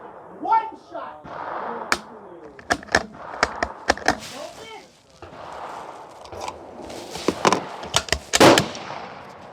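Tikka T3 CTR bolt-action rifle shots at a range, several sharp loud cracks scattered among people talking nearby, with other distant reports and clicks in between.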